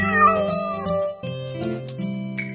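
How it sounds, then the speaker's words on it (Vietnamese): A kitten meows in a Vietnamese children's nursery song, a couple of drawn-out meows heard over a bright musical backing with sustained notes. "trông chú mèo con nghịch ngợm kìa"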